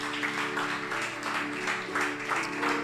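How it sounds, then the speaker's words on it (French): Applause in a church service: a congregation claps in a dense, steady patter for a few seconds, fairly close, with a faint tonal hum underneath. "Applaudis,"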